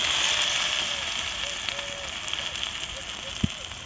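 Eggplant pieces fry on a tawa with a steady hissing sizzle and occasional pops, while a voice briefly talks nearby.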